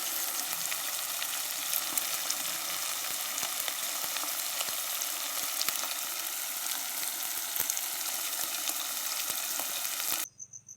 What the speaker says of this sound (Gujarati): હવે મિત્રો આપણે 2 થી 3 મિનિટ એને ધીમી આંચ પર ચડવા દઈશું